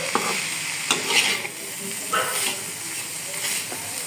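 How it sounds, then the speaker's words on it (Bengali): Prawns fry in hot oil with salt and turmeric, giving a steady close sizzle broken by occasional stirring clatters and scrapes, with brief spoken voice drifting over the cooking. "তারপর সব চিংড়ি মাছগুলো ভেজে নিচ্ছি"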